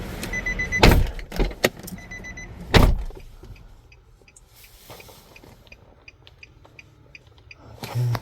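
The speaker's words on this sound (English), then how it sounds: "Open and close driver door." Driver door of a 2009 Nissan Maxima with a no-crank fault opened and shut, giving two loud thuds about two seconds apart, the second at the start of a quieter stretch with faint interior beeps and clicks.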